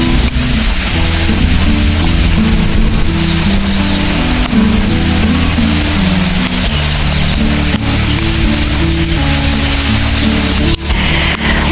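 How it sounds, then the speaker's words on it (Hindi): Heavy monsoon rain pours over a misty mountain hillside, a loud, steady broadband wash with a low rumbling undertone that holds constant throughout with no voice. "मात्र 10 मिनट हुए और बारिश देखिए कितनी ज़्यादा बढ़ गई है।"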